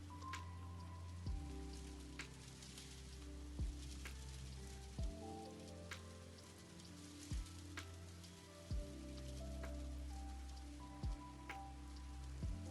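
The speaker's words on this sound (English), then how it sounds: "How do you not have a toggle for rain sound?" Steady rain patters on surfaces as ambient sound in a VRChat virtual world. It runs continuously alongside soft sustained tones and recurring low thumps every second or so, with no talking.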